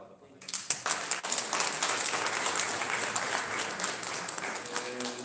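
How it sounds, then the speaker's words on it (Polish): A crowd at a political convention in Siedlce, Poland, bursts into sustained applause. The dense clapping starts suddenly and then continues steadily, gradually easing off. "Także jeszcze raz brawa."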